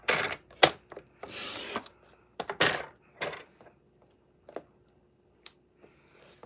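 Paper cardstock being cut into notecard panels on a trimmer, giving several short rasping slices and sliding strokes with small taps in between, close and fairly quiet, with no talking.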